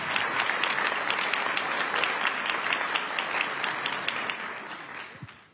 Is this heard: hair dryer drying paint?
no